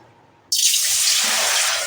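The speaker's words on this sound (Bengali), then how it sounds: "এই মেজারিং কাপটা দিয়েই আমি কিন্তু পাঁচ কাপ জল নেব" Water is poured from a measuring cup into a wok, starting abruptly after a near-silent moment and running as a steady, close splashing stream, with no speech.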